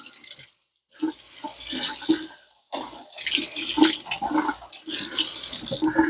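Water runs into a kitchen sink during rinsing, three bursts of splashing tap flow separated by short silences, close and fairly loud, with no talk.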